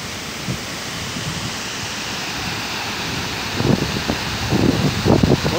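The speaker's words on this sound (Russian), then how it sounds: "Вот сам фонтан." A large public fountain with a huge jet beside the Opera and Ballet Theatre in Minsk, heard as a steady, dense rush of falling water that swells louder toward the end.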